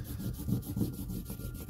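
Polishing compound is rubbed by hand onto a paperboard knife strop, a soft, quiet rhythmic scrubbing of repeated back-and-forth strokes, close and alone.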